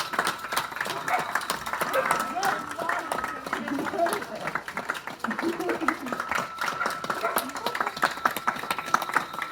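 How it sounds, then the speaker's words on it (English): Neighbours out on a UK residential road clapping and cheering, a steady patter of many hands with scattered whoops and shouts at moderate distance. A dog barks now and then, and voices chatter throughout. "everyone on my mum's road went outside clapping and cheering, and here's like a 10-second clip of it now"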